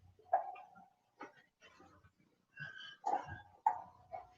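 A small female dog grunts and snuffles while licking a bone, making short irregular bursts of close, wet, piglike grunts separated by brief quiet gaps.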